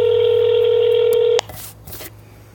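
Telephone dial tones as a radio host places a call to a listener: a steady tone holds for over a second, then stops abruptly, followed by a few softer clicks and noises.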